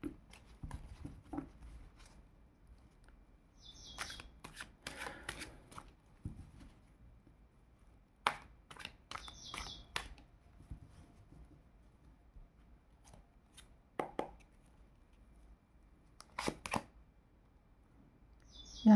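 Tarot cards handled on a table during a reading: soft, intermittent card flicks and shuffling taps, with a few sharper snaps spread across a quiet background.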